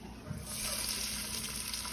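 Chopped onion sizzling in hot frying oil in a pan, a steady soft crackling hiss that swells after a brief quieter start, fairly faint and close.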